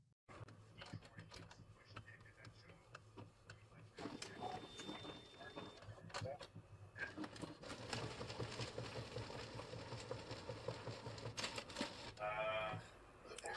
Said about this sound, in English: just going to go ahead and print it